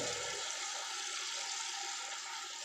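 A toilet cistern refills with water in a steady, loud rushing hiss that continues unbroken for the whole stretch, with no voices over it.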